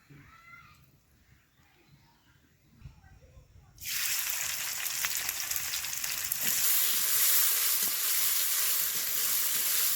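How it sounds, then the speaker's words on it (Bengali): Onions for crisp fried topping drop into hot oil in a kadai over a lit stove, bursting into a loud, steady, close sizzle after a few seconds of quiet kitchen rustling. "লাল করে পেঁয়াজটা ভেজে নেব"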